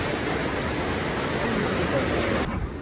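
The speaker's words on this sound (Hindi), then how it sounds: "बहुत तेज पानी बह रहा है यहाँ से और गहरा भी बहुत ज़्यादा होगा।" Fast, deep river water rushes steadily at Sidhnai Headworks on the Ravi River, a dense continuous roar close by with no voices.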